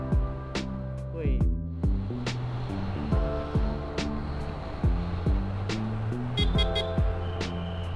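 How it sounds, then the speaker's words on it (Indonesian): Standard horn of a 2021 Yamaha NMAX scooter, heard as several short toots amid a group ride with people talking nearby. "Klaksonnya masih biasa sih, standar ya. Standar pada umumnya klakson."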